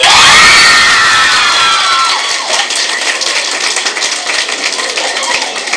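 Loud cheering and shrill shouting from a crowd at the Ghazali Education Trust Iqbal Competition 2011 prize distribution in Islamabad, peaking at the start then easing into ongoing clapping under lingering voices.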